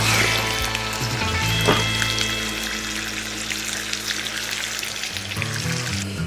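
Liver pieces frying in a pan give off a steady, close sizzle and crackle, with a few louder spits and clinks of utensils along the way.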